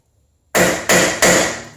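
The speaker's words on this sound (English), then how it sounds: "Okay, you just hammer it in like that." Three sharp metallic hammer blows in quick succession drive a square bit into a brake rotor screw, each strike close and loud with a short ringing decay after silence.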